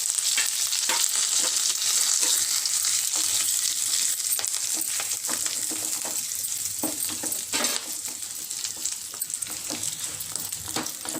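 Ground coriander chutney hits a hot tempering of curry leaves and fries with a loud, steady sizzle, broken by frequent scraping stirs, close up with no talking throughout.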